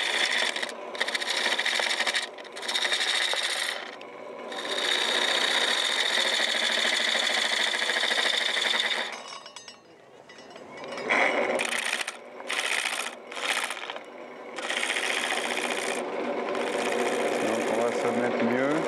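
A motor-driven wood lathe spins a wooden workpiece at an outdoor market stall in St Girons, Ariège, giving a loud whirring, rasping run that repeatedly cuts off and restarts in short bursts and longer passes.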